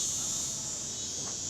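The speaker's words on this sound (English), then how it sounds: "cicadas don't seem too bad right now." Cicadas in a small coastal town on a main street in Beaufort, North Carolina, a dense, high, steady buzzing drone that fills the whole moment with no break.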